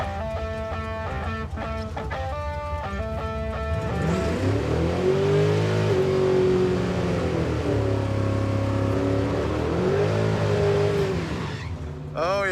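Crusher Camaro race car launching and accelerating hard down a torn-up drag strip at a car event, its engine roaring loud and steady with a rough, misfiring edge, rising and falling through gear changes over crowd noise.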